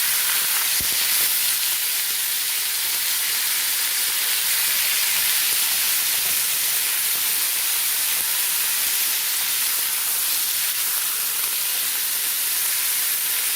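Beef frying in a pan for Philly cheesesteak, a steady broadband sizzling hiss that holds evenly for the whole stretch, moderately loud and alone with no talking.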